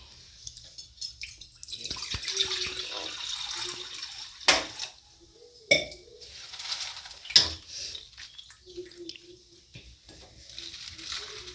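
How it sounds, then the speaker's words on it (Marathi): Spinach leaves get washed in water in a home kitchen: intermittent splashing, swishing and dripping close by, with a few louder knocks and clatters, and no one speaking. "आता पालक आधी छान पैकी धुवून घेते मी"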